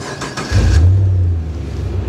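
A 1994 Land Rover Defender 110 fitted with a 6.2 LS V8 cranks briefly, then catches and settles into a loud, steady low idle close by.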